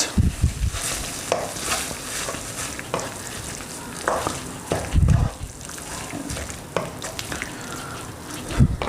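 Chicken filling with ketchup stirred and fried in a pan, a steady sizzle broken by repeated scraping strokes of a spoon through the mixture, close and continuous.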